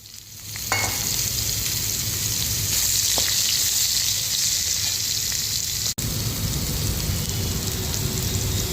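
Soy chunks (meal maker) hit hot oil in a pan for a cucumber curry and set off a loud, steady sizzle that starts abruptly and runs on evenly, with no talking.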